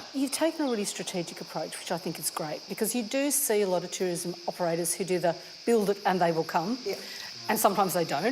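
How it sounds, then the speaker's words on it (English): Cicadas drone steadily in the background of a natural outdoor setting, a thin, constant high buzz running beneath a close conversation between two people. "you can hear the cicadas in the background"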